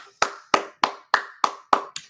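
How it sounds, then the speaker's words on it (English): Seven sharp, evenly spaced hand claps, close and loud, with the last one softer, and no other sound between them. "I gave that a clap."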